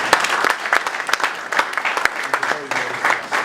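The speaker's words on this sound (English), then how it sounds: "A round of applause for him." Audience applause at a panel dialogue on the power sector: steady dense clapping from a seated crowd, fairly close and continuous for a few seconds with no voices over it.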